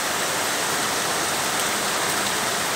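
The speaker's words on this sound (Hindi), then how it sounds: "देखिए कितनी तेज की बारिश हो रही है" Heavy rain pours down in a dense, unbroken roar of drops on surfaces, loud and close throughout, with no talking.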